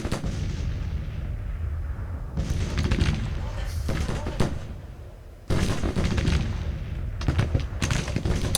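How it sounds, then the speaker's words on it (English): Massed Civil War brigade rifle volleys in Grand Tactician: Civil War, loud rolling crackle and booms of musketry coming in repeated waves, with a brief lull before another heavy volley. "give him some proper full brigade fire"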